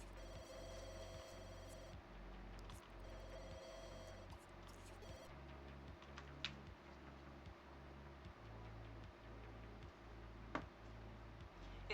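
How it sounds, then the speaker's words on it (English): A telephone rings in The Sims 2, repeated electronic ring bursts in a steady rhythm alongside soft ticking game sounds, clear and alone with no talk. "Carter, I hear the phone ringing"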